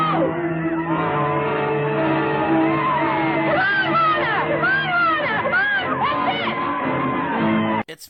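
A crowd of women in a film yells and whoops continuous encouragement, overlapping shouts and shrill cries filling the whole stretch loudly before cutting off abruptly near the end.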